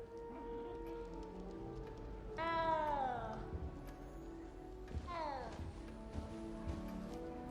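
A small cat in the Hogwarts Legacy game gives two distinct meows over a soft, rain-like ambient backdrop, each cry bending down in pitch, with a voice speaking gently nearby.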